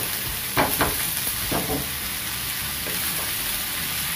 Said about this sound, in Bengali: একটু ভালো করে নাড়াচাড়া দিয়ে নিই